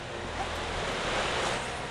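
A waterfall in the Psychonauts video game rushes as a steady, broad, hissing wash of falling water, even and continuous with no talk.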